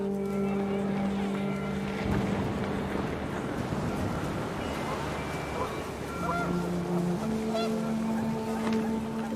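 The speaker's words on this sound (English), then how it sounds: "The wind picked up, and panicked geese appeared and quickly went." Goose honks from a panicked flock over steady wind in What Remains of Edith Finch, a busy, continuous outdoor scene with sustained honking tones throughout, backed by a low rumbling drone.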